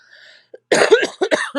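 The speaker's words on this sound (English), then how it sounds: "Sorry about the coughing." A single person coughs several times in quick, harsh bursts close up, after a faint tonal hum.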